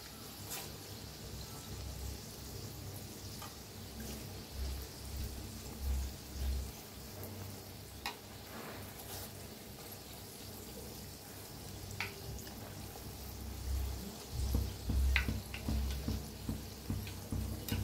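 Karanji pastries stuffed with jaggery and peanuts frying in hot oil, a steady low crackle and sizzle with scattered sharp pops throughout, growing slightly louder toward the end.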